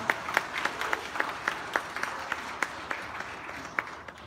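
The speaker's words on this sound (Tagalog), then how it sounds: "Pwede po ba akong humingi ng palakpak para kay Kuya Raul at kay Elisa?" A congregation claps steadily in a roomy church during a golden wedding anniversary Mass in Binangonan, Rizal, scattered individual claps standing out over a soft wash of applause, moderate in volume and fairly distant.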